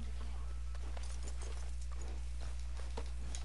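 Horse hooves clip-clop in the Red Dead Redemption 2 video game, a steady, brisk run of hoofbeats over a constant low game hum, with faint voices in the background.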